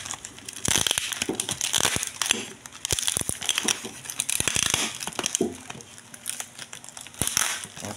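Bubble wrap around a boxed Lazada WiFi smart double CCTV camera crinkles and crackles close up as the package is pulled open, in dense bursts of rustling with brief pauses.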